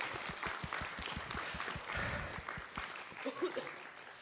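A small audience claps to welcome a guest with a short burst of scattered, moderate applause, mixed with some voices.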